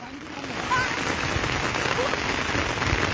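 Steady, dense rain pouring down onto a large sandy field, a continuous broadband hiss with faint voices briefly in the background.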